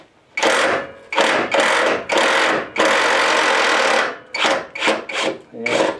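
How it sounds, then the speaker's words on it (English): A power tool whirs in repeated bursts as the last bolt comes out of a 2008 Ford Fusion frame, close and loud, with short pulses, one long run, then quick stuttering bursts. "And now we'll take our last bolt out"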